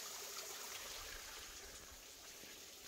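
Hot spring water trickles steadily from a small spigot into a brick-and-mortar natural hot tub, a faint continuous splash with no talking.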